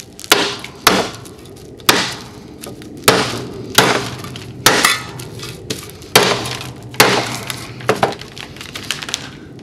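An epoxy-primed metal panel being bent and creased in half gives off a series of sharp, loud cracking and metallic snaps at uneven intervals, each with a short ringing tail, close by and without talk.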